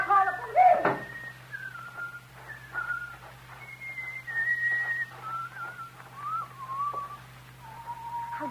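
A man whistles a meandering tune outdoors, clear and close, in short phrases with pauses, over a low steady hum; a brief knock or door sound comes near the start.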